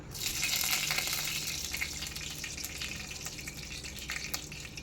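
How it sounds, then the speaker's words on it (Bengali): Dried red chillies fry in hot oil in a kadai while spicy ghugni is being cooked, giving a constant close-up sizzle and crackle with no talking. "তেলটা গরম হয়ে গেল দিয়ে দিলাম শুকনো লঙ্কা"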